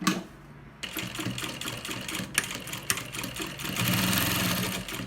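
Sewing machine stitching a seam on a fabric baby bag, a quiet start then a rapid rhythmic mechanical whir that runs in bursts and grows louder toward the end, no talking.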